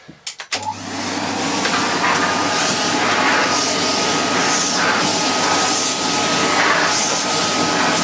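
A refurbished vintage Electrolux XII (Model 12) vacuum cleaner with a carpet floor head runs on carpet. After a few brief knocks it starts up into a loud, steady, close whooshing drone with a faint high whine, and nobody speaks.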